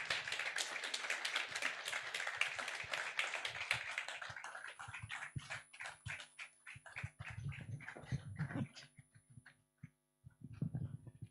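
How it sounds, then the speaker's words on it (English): Audience applause at the Make In Nigeria 2025 event, dense clapping from many hands that thins into scattered individual claps and then a few late bursts, with a faint mains hum underneath. "Can you keep clapping till she gets to her seat?"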